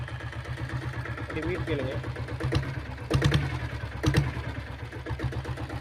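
A 2000 Taurus motorcycle engine idling and running at low speed, a steady rapid thumping pulse close by with a couple of short revs, under someone speaking Tamil.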